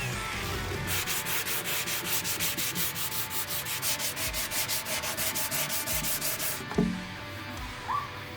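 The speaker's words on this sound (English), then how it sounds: "did some final sanding" Rhythmic back-and-forth sanding on a wooden sideboard, steady strokes repeating for several seconds, then stopping, followed by a couple of light knocks.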